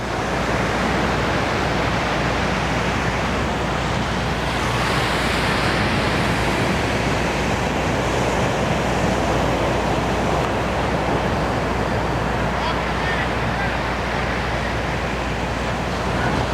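Ocean surf at a Florida beach crashes and hisses continuously, a dense broadband roar of breaking waves with wind, loud and close throughout, with no voices.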